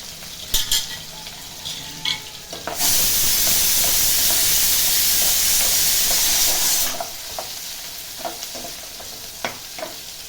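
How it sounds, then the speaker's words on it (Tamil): Onions, both small shallots and big onions, sautéing in a pan for mutton gravy, with light stirring clinks at first, then a loud steady sizzle for several seconds that drops back to quieter sizzling and scraping. "கொஞ்சம் நல்லா வதங்கட்டும்."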